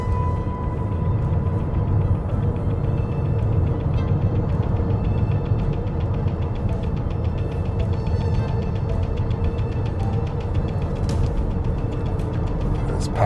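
A 2021 Toyota RAV4 Prime cruises up and down hills, giving a steady low cabin rumble and road hum heard from inside, with no talking.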